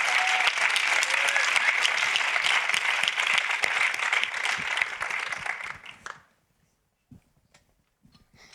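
Audience applause for a climate rapper coming on stage at a Geneva human rights film festival, sustained dense clapping for about six seconds before fading into near silence with a few faint sounds.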